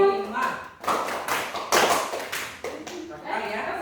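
A classroom clapping game leads pupils into bursts of claps and taps, close by and mixed with a teacher's and children's voices.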